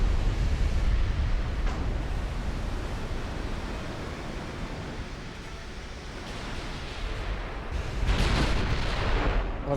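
Battleship main guns fire in the naval game Ultimate Admiral: Dreadnoughts, a continuous heavy rumbling roar of distant salvos with a louder booming swell near the end, no voices.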